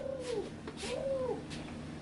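A bird calls inside a house, giving two drawn-out, cooing, arching calls about a second apart, fairly close and clear over a quiet room hum.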